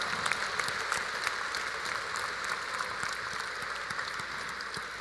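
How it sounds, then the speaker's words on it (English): A large audience at a bar examination oath-taking ceremony claps steadily for the new lawyers, a dense, even patter of applause that holds at a constant level throughout with no speech. "Let us all give our new lawyers a warm round of applause."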